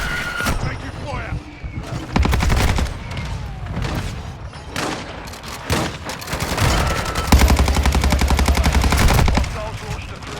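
Gunfire in Call of Duty, with repeated bursts of rapid automatic fire and single heavy shots, loud and close, alongside booms and in-game radio voices.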